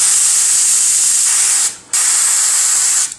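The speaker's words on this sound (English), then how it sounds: "I'm going to spray a little," A Badger 155 airbrush with a medium needle sprays Createx paint for scale models at about 20 to 25 psi, a loud steady close hiss that cuts off briefly and resumes, with no talk.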